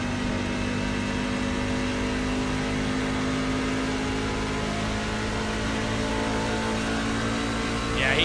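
Onboard engine of a race truck at Auto Club held at partial throttle, a steady mid-pitched drone running continuously at moderate volume, with a brief rise near the end.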